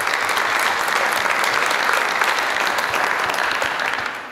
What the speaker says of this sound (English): a little round of applause for